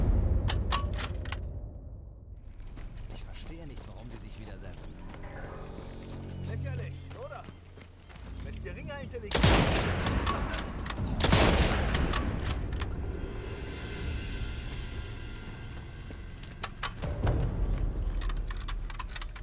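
Rapid gunfire bursts out loud in Sniper Elite 5 amid explosions and battlefield noise, with a voice talking over the action.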